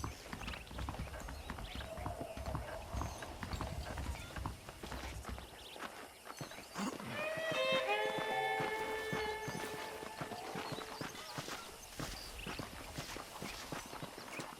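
Horse hooves clop steadily over a constant outdoor ambience in the video game Red Dead Redemption, with a short melodic chime of notes rising briefly midway through.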